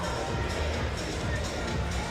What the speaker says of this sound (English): as you will hear the crowd in the background here